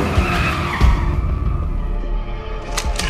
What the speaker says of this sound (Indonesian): Danny menghentikan mobil.